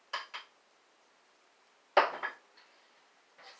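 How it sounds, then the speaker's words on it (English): Leftover juicer pulp from a green drink is dumped into a bowl, giving a few short, close clattering knocks and scrapes separated by quiet pauses, with no talking. "And you dump it in the bowl"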